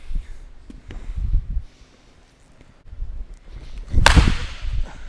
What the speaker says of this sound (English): That sounded more like the crack of a bat than the first two.